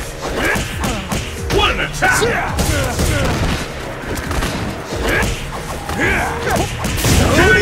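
Fast fighting-game impacts and a Hadouken fireball attack from Ultra Street Fighter IV crash and thud in dense, rapid bursts, layered under excited talk throughout.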